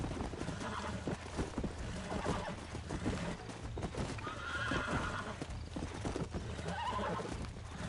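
In the Red Dead Redemption video game, a horse being broken neighs and whinnies while its hooves pound in loud, busy galloping clip-clop, mixed with rushing noise and no speech.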